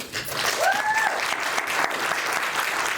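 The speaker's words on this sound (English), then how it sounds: "Yes, you may applaud." Steady applause from a mayoral debate audience in Athens, Georgia, dense and continuous throughout, with a brief tonal squeak near the start and no speech over it.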